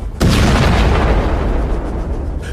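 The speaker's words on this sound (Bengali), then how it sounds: "সঙ্গে সঙ্গে ভীষণ বিস্ফোরণের শব্দ" A bomb explodes in a sudden heavy blast that rolls into a long, loud rumbling roar, slowly trailing off.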